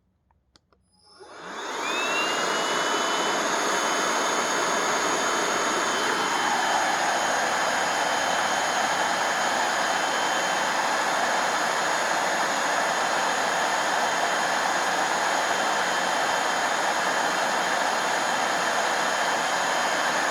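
An APOSEN H20-4 vacuum with all filters removed spins up on low speed, rising quickly to a loud, steady whine with a high motor tone that holds unbroken, no talking.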